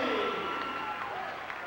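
A high school basketball crowd cheers and applauds after a long-range three-pointer, a broad roar of voices and clapping in an indoor gym that fades slightly, with an announcer talking over it.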